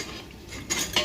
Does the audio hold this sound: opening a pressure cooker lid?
yes